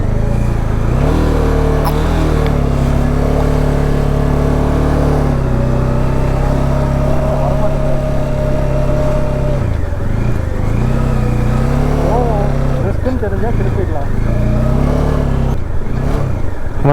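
A motorbike engine runs on the snowy Khardung La mountain pass with a loud, steady rumble, its pitch rising and dipping through several throttle blips over the whole stretch.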